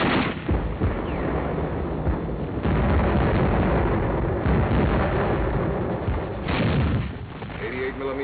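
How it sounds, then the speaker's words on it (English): German 88mm guns firing on an Allied beach landing in Italy, rendered as heavy, booming artillery blasts and rumbling explosions in a dense, continuous barrage on an old wartime newsreel soundtrack. "88mm guns slowed up our landings and imperiled the entire beachhead operation"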